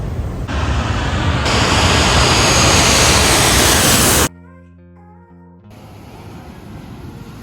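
An airplane landing at Phuket airport roars loudly nearby, with broadband jet-engine noise rising and holding for several seconds before cutting off abruptly, then a quieter stretch with a fainter hiss.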